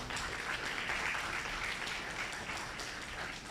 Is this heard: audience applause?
yes